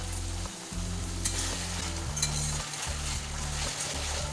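Masala with green chillies sautéing in oil in a pan: a steady close sizzle runs throughout, with a low hum underneath and a few brief scrapes of stirring.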